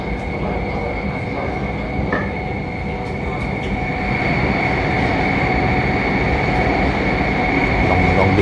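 Loud, steady rumble and rattle inside a Bangkok electric metro train running at high speed, with wheel hiss and brief squeals, heard from onboard the carriage.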